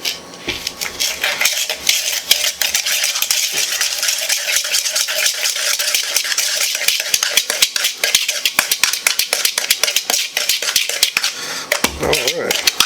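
Granulated sugar mixture stirred in a bowl for cinnamon donuts made from canned biscuits, a busy rapid clatter and scraping of utensil against the bowl, close and steady throughout, without voices.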